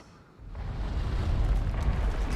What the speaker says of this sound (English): Those explosions exposed some more bloodstones.